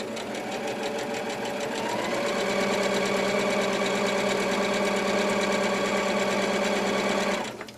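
A sewing machine runs steadily for several seconds, stitching fabric around in a circle for a pocket, its rapid mechanical needle hum close and even before it stops.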